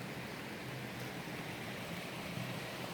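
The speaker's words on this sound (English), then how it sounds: "Can really hear some waterfall" A waterfall on the southwest arm of Port Hacking rushes in a steady, broadband roar that holds unbroken throughout with no other sounds.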